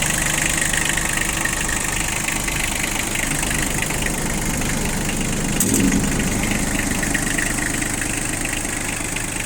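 A Kubota Bulltra tractor engine idles close by, a steady low chugging rumble that holds even throughout with no other sounds.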